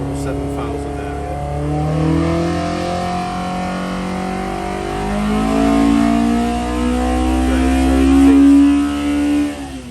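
A car engine runs loaded on a dyno, a steady loud drone whose pitch climbs and wavers as revs build toward about 7,000, ending with a slight drop.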